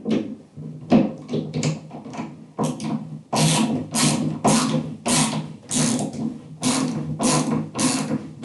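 Screws being driven into a desk or setup frame during an upgrade: a run of short mechanical ratcheting bursts, close and fairly loud, coming in quick repeated spurts with brief pauses between them.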